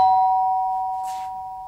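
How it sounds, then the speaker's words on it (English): A doorbell rings once, a clear, sustained electronic ding-dong tone that slowly fades, with a faint rustle partway through. "Just then the doorbell went."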